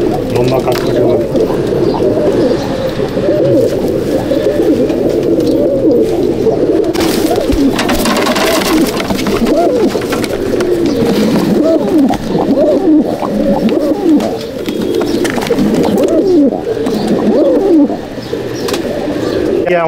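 Pigeons in a Chennai/Andhra Madrasi loft in Howrah coo continuously, a thick chorus of throaty rolling calls close up, with occasional wing flaps and someone speaking over the birds.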